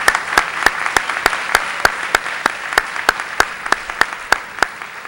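A high school awards assembly audience applauds, with one nearby pair of hands clapping in a sharp, regular beat over a softer wash of crowd clapping.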